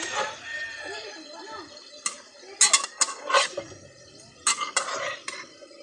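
Adobong sitaw with fried fish being stirred in a pan, with a utensil scraping and clinking against the metal in several sharp bursts amid soft sizzling, while someone talks over it.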